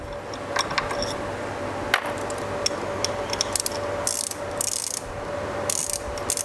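Two nuts are unscrewed from the mount of a spotlight wiring kit, with repeated close ratcheting clicks and small metallic scrapes over a steady background hum.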